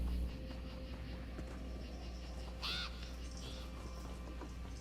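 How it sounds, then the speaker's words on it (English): A crow caws once in the Elder Scrolls Online video game, a short harsh call over a quiet, steady outdoor ambience with a low hum underneath. "Bird. That's a bird."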